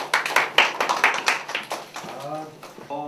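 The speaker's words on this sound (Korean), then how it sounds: "박수 한번 주세요." A workshop audience gives a short round of clapping, a burst of close, scattered handclaps that thins out and fades, then speech takes over at the end.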